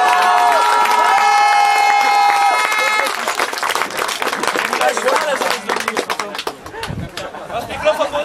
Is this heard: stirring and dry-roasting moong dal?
no